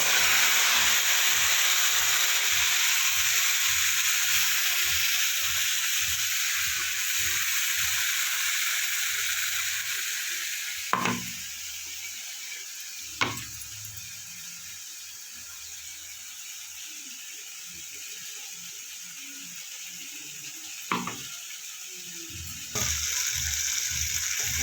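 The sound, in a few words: stirring onion spice paste frying in pan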